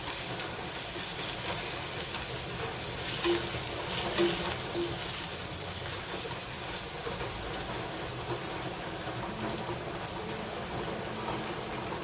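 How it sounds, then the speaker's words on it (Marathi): Ivy gourd (tondli) with curry leaves and paste sautéing in a pan over a medium gas flame, a steady soft sizzle and crackle carrying on evenly throughout without talk. "मिडियम गॅसवर आपण हे सगळं परतून घेत आहोत"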